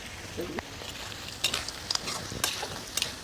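Finely chopped tomatoes with salt frying in oil for a village-style crab curry, a soft sizzle broken by several clinking stirs of a spoon against the pot.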